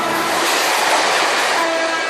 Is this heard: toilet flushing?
no